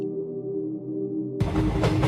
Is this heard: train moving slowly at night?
yes